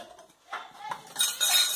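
A metal spoon scrapes and clinks against a pot of rice while serving, a few separate clattering strokes that grow louder and busier toward the end.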